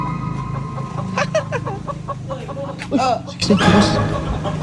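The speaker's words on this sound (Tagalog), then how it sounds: "Magising sa ingay yun ng manok." Chickens clucking and squawking close by in a series of short calls, with people talking over them and a vehicle idling in the background.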